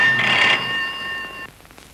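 A telephone rings loudly with a bright electronic trill for about a second and a half, then stops, leaving quiet room tone.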